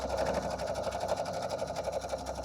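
A sewing machine chain piecing quilt blocks runs in a steady, continuous whir close by, with no talk over it.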